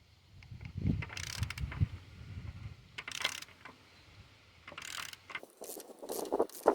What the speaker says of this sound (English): I'm gonna try to turn over the engine and see if it turns smoothly